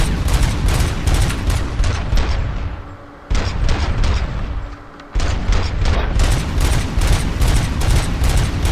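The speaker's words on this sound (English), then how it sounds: "There you go, I've got the unlimited mag pistol." Rapid, nonstop pistol fire from an unlimited-magazine handgun in RoboCop: Rogue City, dense volleys of loud, close shots that pause briefly twice before resuming at the same relentless pace.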